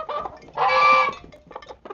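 A loud honking goose call rises over clucking chickens and roosters at a backyard coop during morning feeding, with scattered fowl chatter before and after the main honk.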